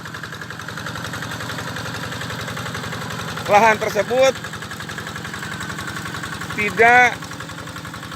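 A tractor engine runs steadily in a field during the second planting season, a continuous low rumbling drone throughout, with someone speaking briefly over it twice.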